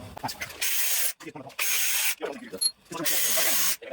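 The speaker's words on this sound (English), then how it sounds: "So I'm gonna break all 3 of these and go ahead and get all 3 of these bolts out." A ratchet works on the hub bearing bolts of a Jeep XJ Cherokee, giving three loud, close bursts of rapid clicking separated by short pauses filled with softer handling noise.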